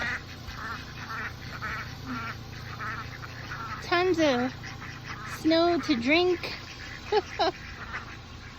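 Ducks quack loudly several times in quick bursts partway through, outdoors in snow after a nor'easter, while a person talks briefly near the start.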